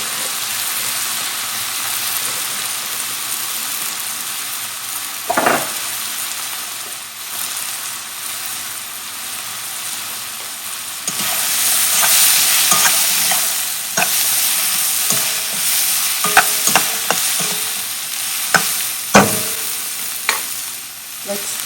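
Onions soften in oil in a pot for a one-pot coconut sweet potato curry, sizzling steadily while a spoon scrapes and stirs through them in irregular bursts, close and fairly loud, with no one speaking.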